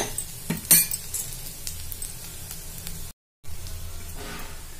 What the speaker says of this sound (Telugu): చూడండి, ఇట్లా మంచిగా కొంచెం సేపు అయితే ఫ్రై చేసుకున్నాము